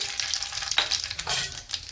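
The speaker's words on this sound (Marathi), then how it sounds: "आपण आता गॅस पेटवून कढई ठेवले, तेल टाकलेले, तेल पण गरम झाले। आता आपण आधी मोहरी टाकून घेऊ।" Mustard seeds spluttering in hot oil in a kadhai on a gas stove, a steady crackling sizzle with brief sharper pops, close and fairly loud, with no voices.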